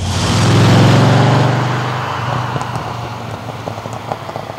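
A loud MG RV8 sports car V8 engine revs hard and roars up close, then settles into a rumbling idle with scattered sharp crackles and pops.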